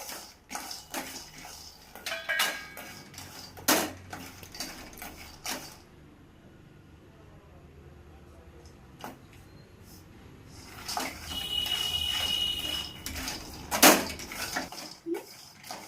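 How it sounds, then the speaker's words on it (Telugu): Groundnuts being roasted in a pan on a low flame, giving scattered clinks and scraping rattles in bursts, with a quieter stretch in the middle and faint background noise. "వేసిన గుళ్ళని సిమ్లో పెట్టి వేగే వరకు వేయించుకోవాలి."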